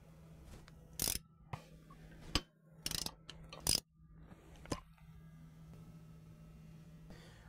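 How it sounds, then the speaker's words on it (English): Bolts being loosened and removed from a Dana 30 differential cover, giving a few sharp metallic clicks and ratcheting bursts spaced irregularly over a steady low hum, close by with no talk. "We're going to go ahead and start removing these bolts."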